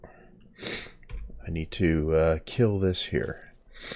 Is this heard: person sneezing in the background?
yes